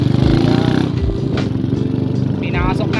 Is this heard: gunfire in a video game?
no